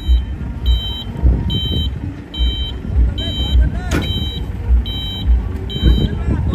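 A truck reversing as it is guided backwards, its backup alarm beeping in a steady, evenly spaced series of about eight beeps over engine rumble, with a man calling out directions throughout.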